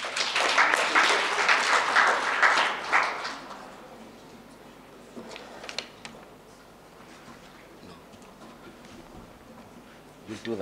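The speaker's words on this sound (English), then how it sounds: "Let's give them a round of applause." Audience applauding presenters at a career expo, a dense burst of clapping for the first three seconds that fades into quieter room noise with scattered claps and chatter.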